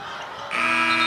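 A basketball arena buzzer ends the first 10-minute period of a women's college game between Iowa and Wisconsin, sounding as a loud, sustained electronic buzz from midway through to the end over crowd noise.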